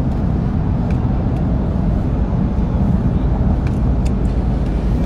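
Dense road traffic in Chonburi, Thailand rumbles past in a continuous low roar of engines and tyres, loud and steady, with a few faint higher clicks above the drone.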